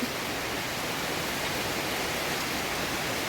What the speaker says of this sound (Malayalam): പുറത്ത് മുറ്റത്ത് നല്ല മഴയാണ്